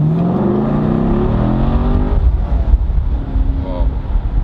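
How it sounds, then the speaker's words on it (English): A Chevrolet Corvette C7 Stingray coupé with targa hardtop accelerates in track mode, its loud engine note rising in pitch over the first couple of seconds, then settling into a rougher, rumbling drone with faint road noise. "when we want to accelerate here, we also go to the track mode again"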